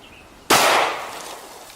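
A 5.7 mm pistol fired into a block of dry ice, one sharp, loud close shot followed by a short decaying ring, with no talk.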